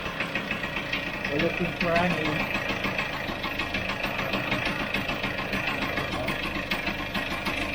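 A Vespa GS scooter engine idles steadily after choke and carburettor adjustment, a close, even, pulsing putter running throughout while someone talks over it.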